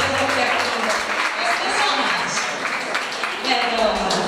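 Applause from a congregation at a church festivity service, a dense steady patter of many hands clapping throughout, with voices mixed in beneath.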